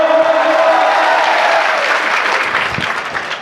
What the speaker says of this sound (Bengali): জোরে হাততালি হোক জোরে স্লোগান হোক